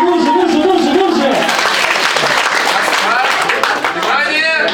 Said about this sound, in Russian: давайте, друзья, аплодисменты, аплодисменты, поддерживаем